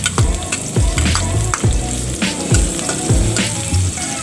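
Chopped red onions and garlic sauté in a hot pan with a loud, close, continuous sizzle, broken by regular scraping strokes of a spatula stirring roughly every half second, with no voices.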